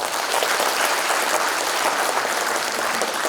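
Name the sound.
applause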